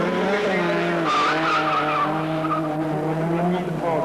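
An Opel Manta 400 ex-Group 4 rally car launches from the start at the 1988 Race of Champions and fumbles into second gear, its engine note surging and wavering with tire squeal while a commentator talks over it.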